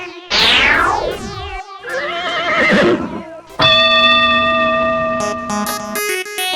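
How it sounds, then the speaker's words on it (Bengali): A horse neighs in a cartoon horse-race scene, a loud, bright whinny with falling pitch followed by synthetic tonal effects and buzzing sound effects, heard alone without talk. "এবার তাহলে ঘোড়দৌড় শুরু করা যাক"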